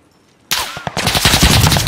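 Hostile gunfire in Call of Duty: Modern Warfare erupts suddenly after a quiet lull, a loud, rapid automatic burst of shots that keeps rattling on.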